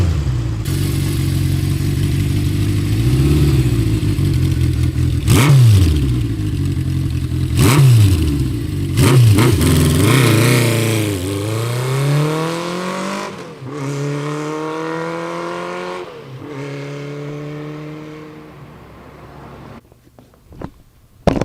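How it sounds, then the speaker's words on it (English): A 1970 Honda CB750K motorcycle with original HM300 exhaust pipes is revved repeatedly, the engine climbing in sharp bursts and falling back to a loud, steady idle before cutting off near the end. "That's one kick-ass sounding vintage bike right there."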